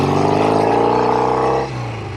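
A 1972 Norton 750 Commando Combat, a vintage British hot rod motorcycle, runs close by with a steady engine drone that swells as it pulls, then drops in pitch near the end as the rider shifts or eases off.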